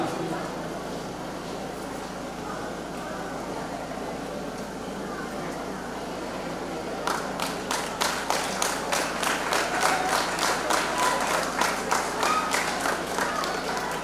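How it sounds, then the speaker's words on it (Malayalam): Applause breaks out at a school admission-day ceremony welcoming new students, a steady clapping crowd starting about halfway through and continuing loud to the end, preceded by hall murmur. "നിറഞ്ഞ കൈയടിയോടെ ഇവരെ ഈ സ്കൂളിലേക്ക് നമ്മൾ സ്വാഗതം ചെയ്യുകയാണ്."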